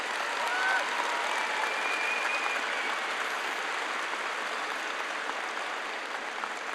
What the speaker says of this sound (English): I hope everyone will join me in giving him a round of applause.